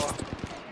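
Video game gunfire, a brief burst of three or four quick shots at moderate loudness, with a voice talking over the game audio.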